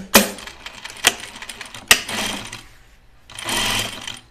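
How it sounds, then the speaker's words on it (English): A sewing machine stitches a seam on jeans in short bursts, with sharp clicks between runs and a longer steady stretch of running near the end, close and fairly loud. "let me sew my seam"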